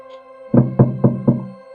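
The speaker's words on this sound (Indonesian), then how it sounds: "Sambil mengetuk pintu rumah ibu kos yang gak jauh dari kosanku." Four evenly spaced knocks on the door of a boarding-house owner's home, firm and close, rapped in quick succession with no voices.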